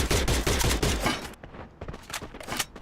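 Rapid bursts of gunfire from the battle royale game Free Fire during an esports qualifier match, loud dense volleys followed by sparser shots, with no talk over them.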